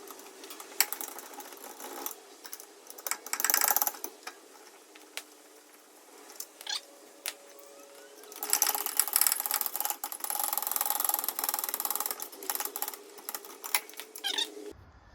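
Close whirring bursts from a tool spinning out VW rear caliper carrier bolts with an M14 spline bit, one around four seconds and a longer stretch from about eight to fourteen seconds, with light clicks between them.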